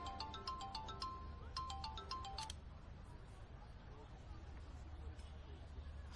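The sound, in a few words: phone ringtone, dad calling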